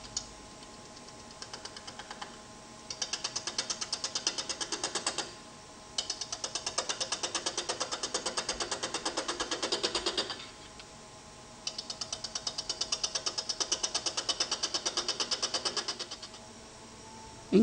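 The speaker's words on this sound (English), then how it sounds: "Increase the speed of the lathe as appropriate." A wood lathe runs with a steady whirring hum while a spindle gouge turns an off-centre egg shape on an eccentric chuck, in three long bursts of dense rapid ticking chatter separated by short pauses, close and moderately loud.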